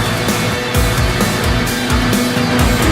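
Supercross motorcycles rev hard together at the start gate, a loud, dense engine roar pulsing with repeated throttle blips.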